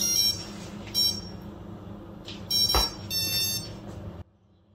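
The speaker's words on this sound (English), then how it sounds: "You can hear the set of beeps produced by the ESC, it means the calibration is completed." A brushless motor's electronic speed controller emits a set of high-pitched electronic beeps after calibration, several short tones in quick bursts with a low hum beneath, then abrupt quiet.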